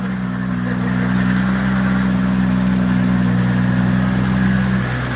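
A 2,000-horsepower car engine idles close by, a loud, steady low rumble that holds evenly throughout with no revs.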